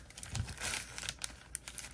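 Plastic wrapping is crinkled and torn open on a Topps Series 2 baseball card mega box, a string of close, sharp rustles and rips with brief pauses between them.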